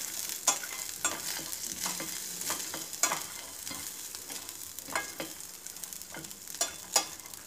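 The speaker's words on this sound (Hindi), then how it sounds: "इसमें यह अखरोट तोड़ के रखा है, छोटा छोटा बारीक करके इसको हल्का सा सौते कर लेंगे" Chopped walnuts sauté lightly in leftover butter, giving a soft, faint sizzle with scattered clicks and scrapes of stirring at irregular intervals.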